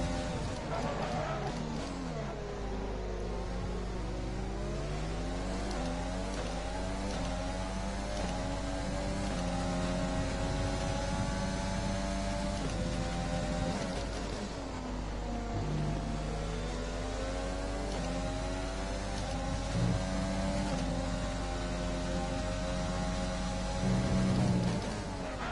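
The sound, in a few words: F1 car engine revving in F1 2020 video game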